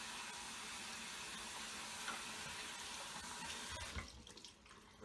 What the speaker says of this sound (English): wet it under the sink under warm water